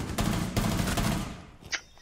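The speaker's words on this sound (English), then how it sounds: "Is that us shooting or them?" Video game gunfire in a chaotic firefight, a dense rattle of rapid shots with sharp bursts, loud and close for about a second before thinning out, ending with one isolated crack.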